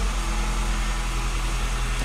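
A Mini Cooper Convertible engine runs at a steady idle nearby, a continuous low hum with no voices over it.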